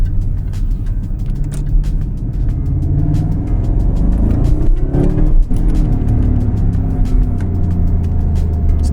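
A Jaguar car accelerates hard while locked in second gear, its engine rumbling loud and close with rising, sweeping revs that surge and fall back across several seconds.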